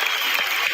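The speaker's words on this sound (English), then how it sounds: "I want to give her a round of applause." A room audience giving an author a round of applause, a brief dense burst of clapping, loud and close throughout.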